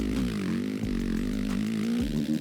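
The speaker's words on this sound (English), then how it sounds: "second gear in this game it just revs so much, it doesn't sound right" A motocross bike engine in the MX vs ATV Legends racing game drones at high, steady revs while held in second gear, a continuous buzzing whine with small pitch wobbles throughout.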